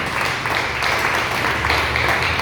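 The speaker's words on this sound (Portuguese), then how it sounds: "Você pode aplaudir o nome do Senhor?" A church congregation applauds during a service, a dense and continuous wash of many hands clapping at fairly loud volume with no clear individual claps standing out.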